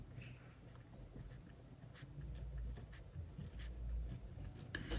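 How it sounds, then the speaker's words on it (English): A pen writes on paper, a soft continuous scratching with brief stroke accents, close and quiet, with no talking. "So I'm just gonna write passport."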